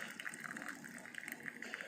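Boiling water is poured steadily over coffee grounds for Hainanese coffee, a soft continuous close trickle with faint gurgling throughout.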